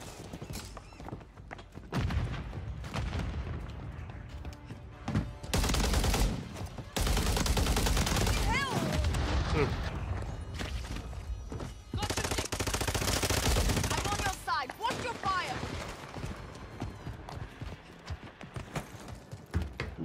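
Kimbo dual pistols in Call of Duty MWIII firing in loud rapid bursts amid game combat noise, with clusters of sharp shots separated by brief lulls.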